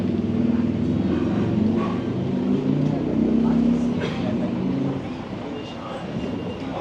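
A motorbike rumbles past along a rainy street in Da Nang, its engine noise steady and fairly close against wet traffic ambience, fading slightly toward the end.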